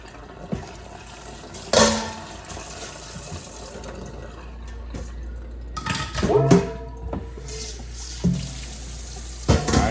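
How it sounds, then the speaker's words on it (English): Cold tap water rinsing a gutted sea bass in a sink, a steady running trickle with splashes and clatter as the fish is handled, plus occasional knocks. "Gonna take some cold water, rinse it off."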